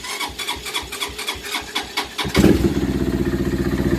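A cold carbureted motorcycle engine, an SSR Razkull or Z125 Pro left sitting through winter, cranks with the choke on in rhythmic starter pulses, then catches and settles into a loud, close, throbbing idle.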